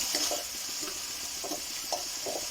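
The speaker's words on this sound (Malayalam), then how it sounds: "ഒരു 20 നല്ല പച്ചമുളക്. ഇത് നന്നായി മൂത്ത് കഴിഞ്ഞാൽ നമുക്ക് കറിവേപ്പില ഇട്ടിട്ട് മൂപ്പിക്കാം." Green chilies frying in hot oil give a steady broad sizzle, with a few soft stirring scrapes at intervals and no voices.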